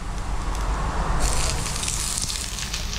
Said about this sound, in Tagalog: Maglagay na tayo ng bawang sibuyas.